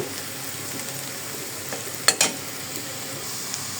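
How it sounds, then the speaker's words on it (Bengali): Onion and garlic fry in hot oil, a steady soft crackling hiss up close with a couple of brief clinks near the middle, alone without talk. "এখানে আমি পেঁয়াজ আর রসুন তেলে ভালো করে লাল লাল করে"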